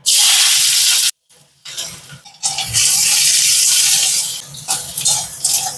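Chopped onion dropped into hot oil in a wok with cumin already fried, a loud close hiss that cuts out briefly, then bursts back and sizzles strongly with stirring.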